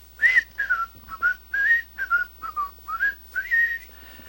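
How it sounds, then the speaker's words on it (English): A person whistling a short, halting tune of about a dozen bright notes, some sliding, with small gaps between phrases, close and clear over a low hum. "The sound you hear is me whistling."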